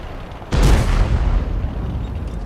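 An AT-8 tank destroyer in the video game World of Tanks fires a single heavy shot, a close, deep boom that rolls on in a long fading rumble.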